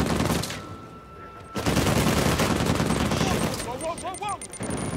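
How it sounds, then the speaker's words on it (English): An enemy firing a big machine gun in Uncharted 4: loud, sustained rapid bursts of gunfire with ricochet whines, close and intense, under occasional male speech. "How do we deal with this guy with a big machine gun?"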